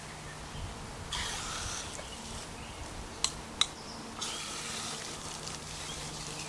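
Water runs from a garden hose into a planting hole while a pawpaw rootstock is transplanted, a soft steady hissing rush in two stretches broken by a couple of light knocks, quiet and with no talk.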